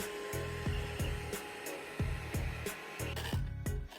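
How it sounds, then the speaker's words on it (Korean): A Swiss Military robot vacuum cleaner fitted with a small mop pad works close by, its steady motor whine broken by regular knocking bumps roughly every third of a second, with no voices. "요즘은 퇴근하고 매일 싱크아이 로봇 청소기로 간편하게 청소해요."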